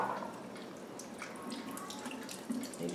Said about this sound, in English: So we just pour it all over the kitty's coat like